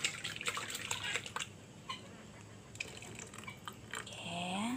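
Water poured into a cooking pot while making a layered durian and pandan agar-agar dessert, a close splashing and trickling stream with drips, steady throughout and alone without talk.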